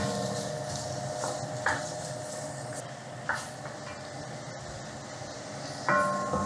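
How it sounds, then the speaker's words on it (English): Diced onion frying in about two tablespoons of vegetable oil in a pan gives off a steady, moderately quiet sizzling hiss, broken by a few light stirring clinks. "So first thing goes in the diced onion."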